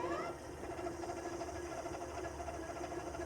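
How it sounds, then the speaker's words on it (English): A YOULON moped-style electric bike's hub motor spinning freely with no load, a steady mechanical whir with a faint rising whine at the start, continuous and moderately quiet. "Let me lean it over and do a no load test for y'all."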